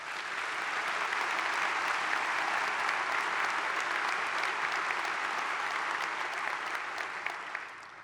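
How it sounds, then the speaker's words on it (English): Sustained applause from a large crowd, steady and continuous clapping that holds at an even level throughout before tapering slightly near the end. "Let's give them a round of applause"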